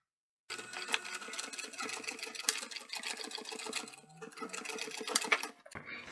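A sewing machine stitches a bum bag from a DIY kit with a steady rapid clatter. It runs back and forth in close bursts, pausing briefly midway before starting again, then stops.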